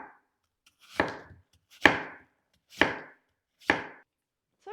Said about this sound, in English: Let me just go ahead and make a flat place so that it's easier to slice them.